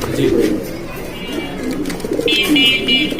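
Lakkha Beauty German seal racer pigeons coo close by in low, repeated rolling calls, with a brief higher chirp near the end.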